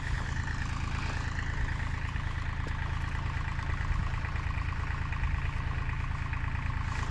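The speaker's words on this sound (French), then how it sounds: "Tu veux le tracteur?" A tractor engine runs steadily nearby, giving a constant low, throbbing rumble that stays even throughout, with no voices over it.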